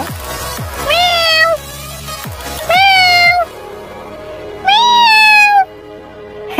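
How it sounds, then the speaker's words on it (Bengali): Three loud, drawn-out meows from a large, leopard-like cat on a farm in Kuwait, each rising and falling, close by with quiet pauses between them. "সামনে একটা বিড়াল পড়লো, বিড়ালটা তো না যেন একটা ছোট একটা চিতাবাঘের মতো দাঁড়া কাটার মতো একটা বিড়াল"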